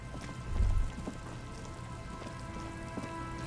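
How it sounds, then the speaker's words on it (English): Steady rain falling in the video game Disco Elysium, a continuous soft patter on surfaces with a brief low thump early on, faint and even throughout with no talk. "The reeds chafe against one another while the rain falls."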